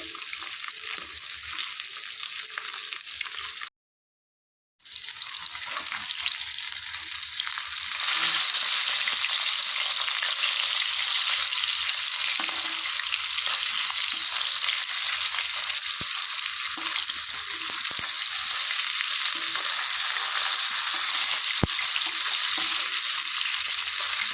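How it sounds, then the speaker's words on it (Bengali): Continuous oily sizzling and crackling of bhola fish frying in oil in a pan, steady and close, with a short silent gap near the start. "অল্প অল্প করে ভেজে নেব একবারে সবগুলো দেবো না"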